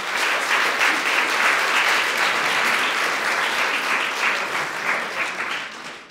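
Loud, dense applause from a large audience at a business awards event fills the space, sustained throughout and tapering off at the very end.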